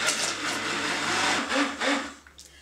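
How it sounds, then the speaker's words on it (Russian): A blender whirs loudly and steadily mixing soap made from oil and lye, then slows and stutters with a few uneven pulses before cutting off. "Ну и включаем блендер."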